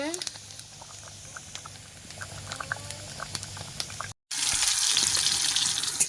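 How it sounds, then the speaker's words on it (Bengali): Rice boils in a pot over a village cooking fire, bubbling and pattering steadily up close. A brief cut is followed by louder, hissier boiling, and a voice speaks over it. "ওদিকে ভাত ফুটে উঠেছে"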